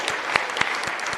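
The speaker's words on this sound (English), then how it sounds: "Yes, you can applaud." An audience at a Board of Supervisors meeting breaks into brief applause, a dense wash of clapping with a few sharper individual claps standing out over roughly a second.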